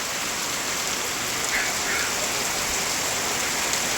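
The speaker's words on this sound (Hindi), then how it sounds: "देखो बहुत ज़ोरदार पानी हो रहा है" Heavy rain pours down steadily in a hilly area beside a river, a loud, dense, unbroken hiss of falling water with no voices.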